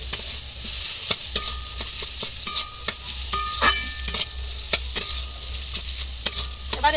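Grated boiled egg and potato mixture frying in a pan, with steady sizzling and repeated scraping, clacking stirring strokes throughout, close and alone.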